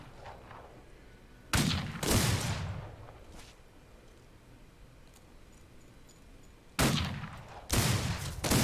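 Gunfire in the Wild West game Outlaws of the Old West comes in two pairs of loud, booming shots several seconds apart, each blast trailing off in a rolling echo over a quiet background hum.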